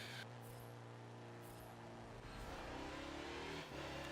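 A Mazda racing a lap of the Brickyard in Forza Motorsport 7, its engine droning steadily and rising in pitch as it accelerates, with a brief dip near the end, alone and close.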